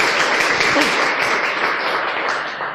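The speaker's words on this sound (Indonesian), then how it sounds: "jadi tepuk tangan sekali lagi buat Bapak Ibu yang hadir di sini" An audience at a prospecting seminar breaks into dense, sustained applause, a loud continuous wash of many hands clapping with no voices over it.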